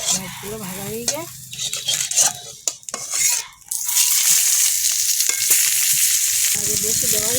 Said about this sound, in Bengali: মাছগুলো ভাজা হয়ে যায়